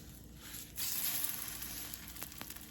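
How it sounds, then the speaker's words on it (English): A freshly flipped egg sizzles quietly in a pan for a breakfast sandwich, a soft steady frying hiss swelling slightly after the turn, with a couple of faint ticks. "I'm going to flip mine because I don't like my yolk not cooked."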